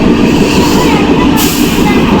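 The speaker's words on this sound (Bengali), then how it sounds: "অনেক ঠান্ডা, দেখো পুরো ট্রেন ফাঁকা।" Steady, loud low rumble and rattle inside a nearly empty moving local train, with the carriage noise droning continuously throughout.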